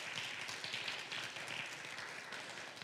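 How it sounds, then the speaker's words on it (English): Church congregation at a Sunday service applauding a member, a steady dense wash of clapping at moderate distance throughout, fairly quiet and without speech. "Yeah, give him a round of applause."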